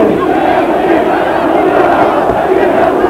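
Loud, continuous roaring and chanting from a massive crowd at an Andreas Papandreou rally in Patras, a thick, unbroken swell of voices close and overwhelming throughout.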